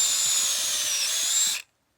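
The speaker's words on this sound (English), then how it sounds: "you drill a hole into the tree" A power drill bores a hole into a maple tree for sap tapping on a Vermont winter trip, giving a loud, steady high whine that runs for about a second and a half before cutting off abruptly.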